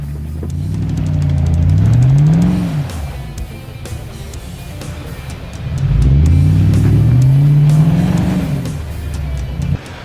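An 80 series Toyota Land Cruiser 4x4 engine revs in two loud surges with rising pitch, each followed by a dip back toward idle, close by and with no voices.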